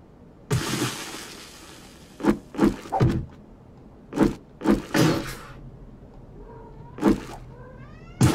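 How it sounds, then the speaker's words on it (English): A pet cat meows indoors, several loud nearby cries in an irregular series, some drawn out and some short, with no talk over them. "That's my cat."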